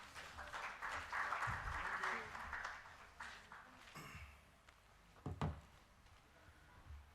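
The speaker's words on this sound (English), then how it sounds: "A great round of applause, please." Audience applause at a corporate technology session in New Delhi, a broad patter of clapping that swells early then thins and fades, with voices and a few thumps mixed in.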